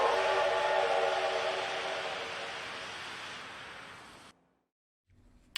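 A train whistle blows loud and sustained for about four seconds over rumbling rail noise, then cuts off to brief silence before faint train sounds return.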